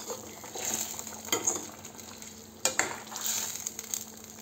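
Fish curry bubbles steadily in a pot at close range, a continuous simmering hiss broken by a couple of sharp utensil clinks, with no talking.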